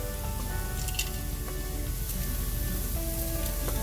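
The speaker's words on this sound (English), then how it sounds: "So our onions are browning nicely. I added a little more ghee just to get them cooking." Onions frying in ghee in a pan, a steady dense sizzle with soft crackles and occasional faint clinks, close and continuous without talk.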